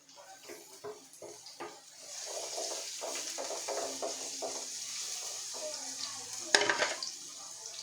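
Garlic frying in a pan, a soft steady sizzle with repeated stirring scrapes, quiet and close, ending in a sharper clatter of utensil on the pan.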